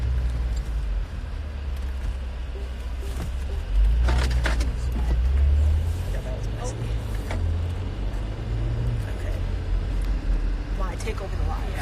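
A car drives along with a steady low engine and road rumble, swelling briefly louder in the middle, while people talk inside the cabin and small clicks and knocks sound from within.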